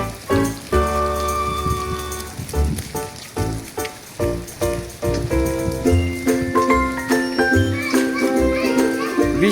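Rain falls steadily while two children jump about and play in it, a continuous patter running under their lively voices and shrieks throughout.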